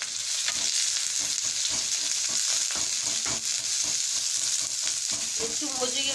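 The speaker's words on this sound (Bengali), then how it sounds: "একটা ফ্রাই প্যানে আমি সাদা তেল দিয়েছি। এবার আমি 2 বড় সাইজের পেঁয়াজ কুচি দিয়ে দিলাম।" Two large chopped onions fry gently in white oil in a frying pan, a constant close sizzle broken by soft, irregular stirring scrapes and taps, with no talk.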